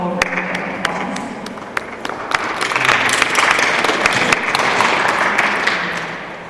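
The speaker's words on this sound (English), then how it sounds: "If we could just all give them a wonderful round of applause." A museum lecture audience gives sponsors a round of applause, sparse separate claps at first that swell into full, sustained clapping from a sizable crowd in an indoor hall.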